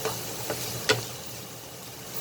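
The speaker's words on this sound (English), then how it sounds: "So fry the onions nicely." Onions fry in a pan for a pointed gourd and yogurt curry, a steady soft sizzle with a couple of faint clicks and stirring taps.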